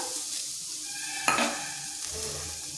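Grated coconut being lightly fried for a sweet semolina steamed-cake filling, a soft steady sizzle with a brief scraping stir near the middle and another faint one later.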